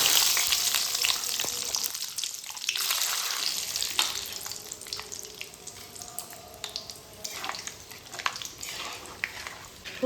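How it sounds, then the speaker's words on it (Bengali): Peanuts frying in a pan at home, a steady close hiss and crackle of sizzling oil with soft stirring clatter throughout, no voices. "প্রথমে আমি এই চিনেবাদামগুলোকে ভেজে নেব।"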